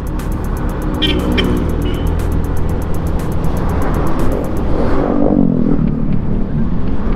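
A Honda Beat Playful 110cc scooter rides along a highway, its small engine droning steadily under loud wind and road noise, with a rising pitch as it accelerates.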